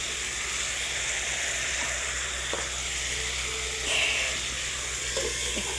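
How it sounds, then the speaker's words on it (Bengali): Potatoes simmer in water with spice masala in an open pan, a steady soft bubbling hiss with occasional faint pops and a light clink, close and continuous. "এখন আলুটা হালকা সেদ্ধ করে নেব। জল দিয়ে"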